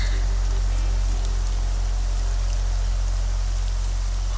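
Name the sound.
heavy rain pouring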